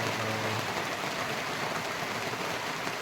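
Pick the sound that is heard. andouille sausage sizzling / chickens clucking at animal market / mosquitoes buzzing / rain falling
rain falling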